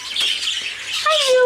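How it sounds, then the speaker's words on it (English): A small, plump pet parakeet or cockatiel gives a short squawk and then a rising whistle-like call, close and clear, with a person talking softly nearby. "Hi, little fat parakeet. Hi, little fat cockatiel."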